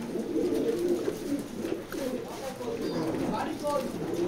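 Racing pigeons in a loft coo in low, repeated, close-up calls while someone talks over them.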